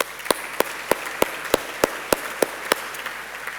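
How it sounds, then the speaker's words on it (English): At a leadership conference, the audience gives a round of applause, heard as sharp, evenly spaced claps at a steady rhythm rather than a dense ovation. "Another round of applause, please."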